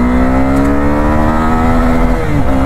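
Loud and close, a Suzuki Gixxer SF250 motorcycle engine pulls through second gear with a smooth rising whine that briefly dips near the end before climbing again, with no voices.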